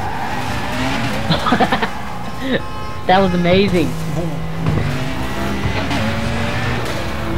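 Cars in the Burnout Paradise video game rev and spin donuts, with bursts of squealing tires and skids over engine noise, while a player talks and laughs excitedly over the game sounds.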